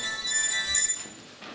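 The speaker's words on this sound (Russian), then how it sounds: "Телефон." A telephone ringtone plays indoors, a steady electronic tone with bright sustained pitches, fairly loud and alone for a moment before fading toward the end.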